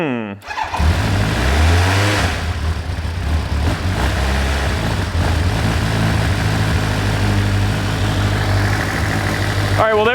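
A Kawasaki Ninja motorcycle engine cranks, nearly catches, then roars into a loud, steady running drone with rising and falling revs, close by, as someone talks over it.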